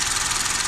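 A car engine running with a check-engine fault, its steady rough idle pulsing with a faint even knock, close and continuous.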